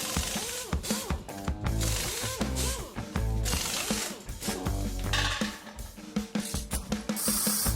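Stem bolts on a Senada Archon e-bike being tightened with a ratchet, giving busy close mechanical clicking and metallic rattles that run almost continuously and loudly throughout.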